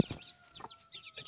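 A hen clucks softly and repeatedly at close range while her chicks peep in quick, high chirps around her.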